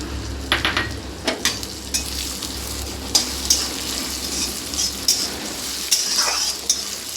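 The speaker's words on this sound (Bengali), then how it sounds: "ডালটাকে একটু ভাজা ভাজা করে নেব" Mung dal fries in a pan under a steady sizzle while a spoon stirs it, with regular scraping strokes and sharp metallic clinks against the pan every second or so.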